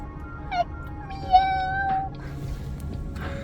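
A cat at a roadside stop along the Icefields Parkway near Peyto Lake in the Canadian Rockies gives a couple of clear meows, one long and drawn out, close by over faint background noise.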